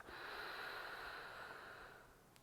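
Long steady exhalation through the mouth during a calm yoga breathing exercise, a soft airy hiss lasting about two seconds and fading toward the end, close and alone.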